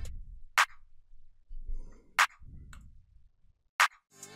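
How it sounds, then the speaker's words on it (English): Basic clap programmed on the 2 in FL Studio for a trap beat, three sharp, evenly spaced snappy claps with a speaking voice filling the gaps between them. "which is just a normal basic clap"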